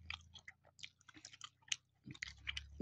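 Dates being chewed at breakfast, close and soft, with irregular wet chewing and crunchy bites in quick bursts and short pauses, no talking.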